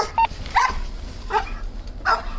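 A police dog barks during a standoff with a suspect, four sharp barks spaced irregularly, loud and close over low background noise.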